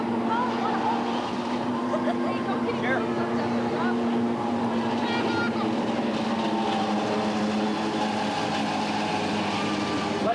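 Super stock race cars circle behind the pace car at Redwood Acres Raceway during a 1989 trophy dash, their engines blending into a steady, continuous droning roar with a strong, even tone that never lets up.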